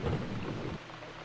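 Rain falls steadily in the video game Downfall, a soft, continuous hiss of downpour. It is somewhat louder at first and then drops to a quieter wash, with no voices.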